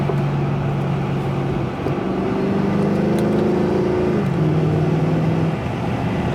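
A Mercedes-AMG engine revs up and down, its deep throbbing tone climbing and falling in pitch over a loud constant drone, close up with no talking.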